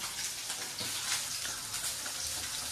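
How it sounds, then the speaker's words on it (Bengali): Fish frying in a pan on a home stove gives a steady, fairly close hiss and crackle of hot oil that runs unbroken from start to finish. "এদিকে হচ্ছে মাছ ভাজা"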